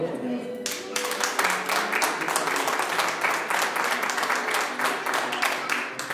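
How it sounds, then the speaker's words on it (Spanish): A church congregation applauds at a service, with a dense wash of many hands clapping that starts after a brief lead-in and holds steady, fairly close, while a voice talks over part of it. "Dale un aplauso al Señor."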